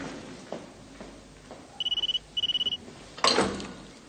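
An indoor telephone bell rings in two short bursts of rapid trills, fairly close and clear over a quiet room, followed by a louder rustling clatter as the receiver is picked up.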